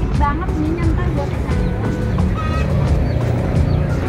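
A flock of laying ducks raises a loud, continuous din of quacks and clucking calls, close and steady throughout, with people talking over the noise.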